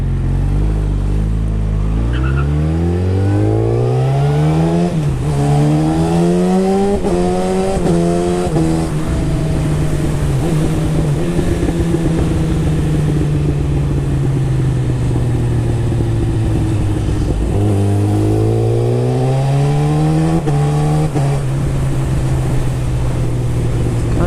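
Motorcycle fitted with a full decat exhaust system and quickshifter revving hard, its loud, close engine note climbing repeatedly through the gears with rough crackles between shifts.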